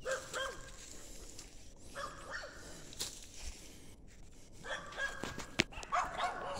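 Several dogs, including young puppies, bark in short yips and bow-wows outdoors near a chicken coop, in scattered bursts at moderate distance with a brief sharp sound near the end.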